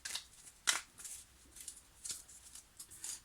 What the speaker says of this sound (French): Je vais prendre une dernière carte.